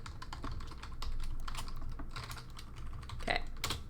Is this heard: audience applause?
no